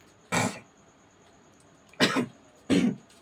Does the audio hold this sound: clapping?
no